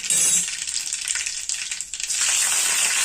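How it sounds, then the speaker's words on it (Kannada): Mustard seeds and cumin crackle and sizzle in hot oil for a home-style North Karnataka sprouted green gram stir-fry, a dense close spattering hiss with scattered pops, steady throughout with no talk. "ಸಾಸಿವೆ ಚಟಪಟ ಅನ್ನಲಿ ಒಂದು ನಾಲ್ಕು ಕಾಳು ಜೀರಿಗೆ ಹಾಕೋಣ"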